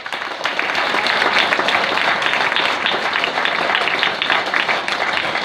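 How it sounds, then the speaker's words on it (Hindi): Audience applause in a lecture hall during a spiritual talk, sustained dense clapping from a large crowd, loud and steady throughout without speech. "तो एक बार फिर से जोरदार ताली बजा दिया जाए"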